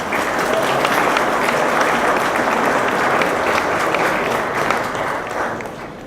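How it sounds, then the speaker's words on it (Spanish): Audience applause at a panel discussion on transparency and memory, steady, dense clapping from a crowd that holds for several seconds before tapering slightly at the end. "Un aplauso, por favor."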